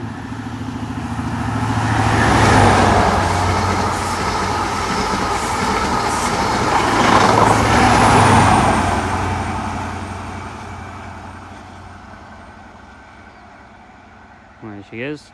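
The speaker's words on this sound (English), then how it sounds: "as that lovely cross-country HST goes through" A cross-country HST passes through Dawlish Warren station, its diesel power cars and coaches building to a loud rumbling roar with rail clatter, then fading away as the train recedes.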